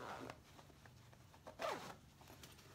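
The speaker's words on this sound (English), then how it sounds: "and then reach in here and unzip it." A zipper on a vinyl-lined fabric placemat pouch is unzipped in a quick, close rasping pull, with a few small handling rustles before it and no talk.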